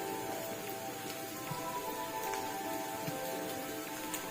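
Turmeric hitting hot oil in a pan while cooking aloo makhani, a steady crackling sizzle throughout with small pops, close and moderately quiet, no talking.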